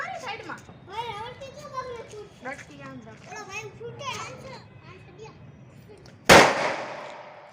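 Children chatter for several seconds, then a single loud, sharp firecracker bang goes off close by and rings out briefly as it fades.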